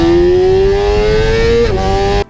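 Loud, steady motorcycle engine drone heard while riding, a strong rising harmonic whine that climbs gradually, dips briefly near the end and then cuts off abruptly, with no voices.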